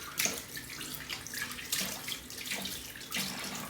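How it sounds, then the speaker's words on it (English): Cold water running steadily from a sink tap, a close hissing splash with small uneven bursts, continuous throughout with no voices. "Get some cold water going here."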